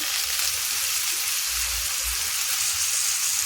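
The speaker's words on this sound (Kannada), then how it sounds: "ಟೊಮೊಟೊನ ಸಹ ಸೇರಿಸ್ಕೊಂಡು ಫ್ರೈ ಮಾಡ್ಕೊತಾ ಇದ್ದೀನಿ" Tomatoes sizzle steadily in a hot pan for egg fried rice alongside carrots, a close, even frying hiss with a few low thumps and no talking.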